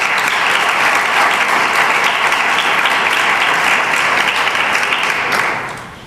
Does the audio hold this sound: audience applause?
yes